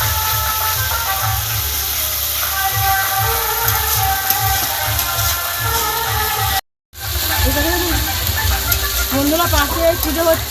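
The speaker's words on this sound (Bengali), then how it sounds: "পেঁয়াজটা ভাজা ভাজা হয়ে এসছে" Onions sizzling and frying in a pan for a prawn malai curry, a loud continuous crackle with stirring, while loudspeaker music and voices from a nearby festival play in the background.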